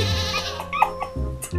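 A goat bleats in a short clip, one or two wavering cries mixed with other voices and noise, fairly close.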